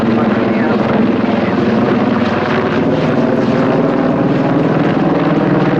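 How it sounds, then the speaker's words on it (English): An aircraft makes a rolling landing at the RIAT 2015 air show, a loud, continuous engine and propeller roar that stays steady and close throughout, with commentary likely mixed in. "He's now once again for a rolling landing."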